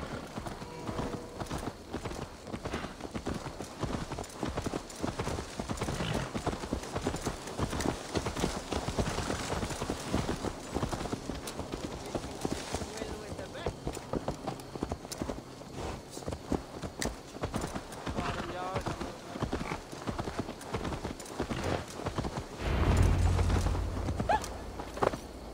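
Horse hooves clip-clop steadily in Assassin's Creed Valhalla, set in Viking-age England, a continuous walking gait heard close amid ambient game sounds, with a brief low rumble near the end.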